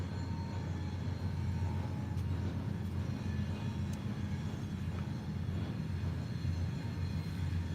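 A loud passing train rumbles nearby and shakes a building, giving a steady, deep, continuous roar that holds for several seconds with no talk over it.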